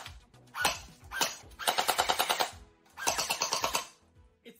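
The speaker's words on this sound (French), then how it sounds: "Attendez, voici les deux blasters côte à côte. Écoute ça." A Gelfire gel blaster fires in three close, loud bursts of rapid rattling shots, each lasting about a second, separated by short pauses.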